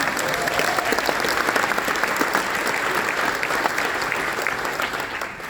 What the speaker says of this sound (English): So they also deserve a round of applause.